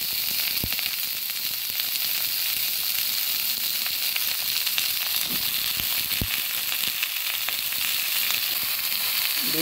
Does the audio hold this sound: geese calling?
no